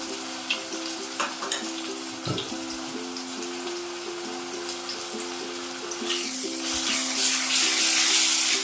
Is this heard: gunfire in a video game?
no